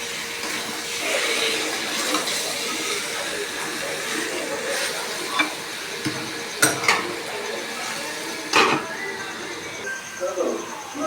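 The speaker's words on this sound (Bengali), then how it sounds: "ভালো করে দেখো আমি কষিয়ে নিচ্ছি" Meat and spices sizzle and hiss steadily in a pan for a Bengali curry being braised, with a few clanks of a spoon against the pan over the continuous frying noise.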